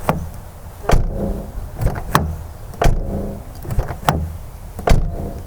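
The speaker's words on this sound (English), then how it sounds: "my driver door, when you close it, it makes a metal kind of rattling sound" A Lexus GS350 driver door, on a car once damaged in front-side accidents, shut repeatedly: several sharp thuds spaced about a second apart, each followed by a short metallic rattle, close and loud with no talk.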